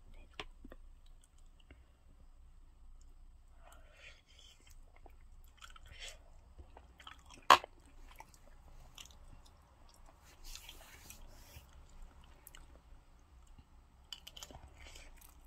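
Close, quiet chewing of a meal of dumplings, rice and soup, with soft moist clicks and squishes scattered through a near-silent room and one sharp click partway.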